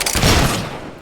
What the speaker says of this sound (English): Damned rebel is firing at us!